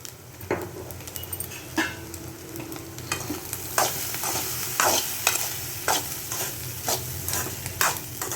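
Egg fried rice with soy sauce is stir-fried in a pan, a constant sizzle punctuated by repeated rhythmic scraping strokes of a spatula, close and fairly loud.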